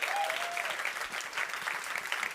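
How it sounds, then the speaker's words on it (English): An audience at a bio-based economy challenge event applauds a jury member, steady dense clapping filling the room for a couple of seconds, moderately distant. "Please give a big round of applause for Kirsten Herbach-Steinbusch"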